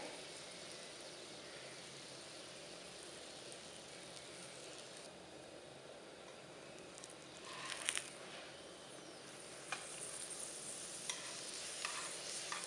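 A mooli (radish) paratha fries on a pan over medium flame, giving a steady soft sizzle throughout with a few brief louder crackles and scrapes as it is turned.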